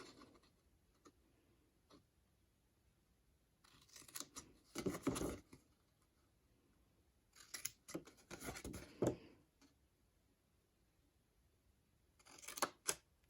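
Scissors cut along a fold while a baby memory box is being crafted: three separate bursts of snipping and crunching, close and fairly soft, with quiet gaps and faint ticking between them.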